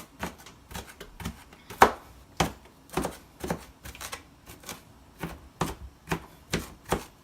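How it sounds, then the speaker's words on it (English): A kitchen knife chopping food on a cutting board while making stuffed bell peppers, with about a dozen sharp, evenly spaced chops at a slow steady pace, close and clear. "So we're just going to chop some of this up."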